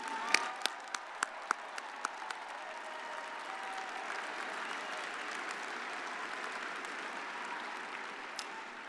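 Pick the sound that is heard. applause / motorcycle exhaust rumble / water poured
applause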